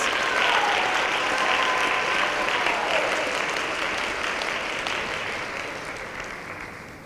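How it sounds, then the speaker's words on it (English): An audience at a science and engineering awards ceremony applauds the middle school winners. The clapping is broad and continuous and slowly softens over several seconds. "Let's give a round of applause for our middle school winners."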